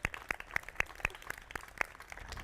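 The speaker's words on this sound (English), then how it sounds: "I want the media here to give these kids a round of applause" Members of the media clapping for children at a White House garden event, a sparse, steady run of individual hand claps from a small group, fairly close and light rather than a roaring ovation.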